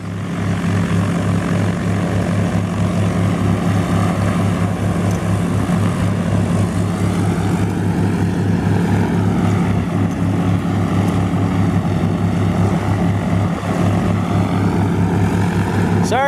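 A loud, droning propeller airplane engine runs continuously at close range, steady low throbbing with buffeting wind noise throughout.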